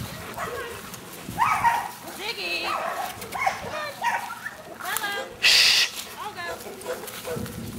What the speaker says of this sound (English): they've discovered the dogs on the other side of the fence